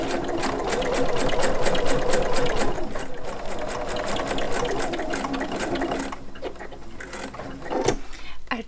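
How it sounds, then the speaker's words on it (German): A sewing machine stitches close to the edge of a fabric bowl mat, running a steady rapid whir throughout with a few brief pauses and a small clack near the end. "nähen wir knappkantig ab. Und los geht's."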